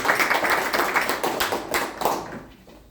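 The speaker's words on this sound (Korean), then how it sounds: "우리 한승문 대표 발표 박수로" Applause for a representative's presentation at a founding preparatory meeting of a culture forum: a small group clapping steadily for under three seconds, moderately loud, then tapering off toward the end.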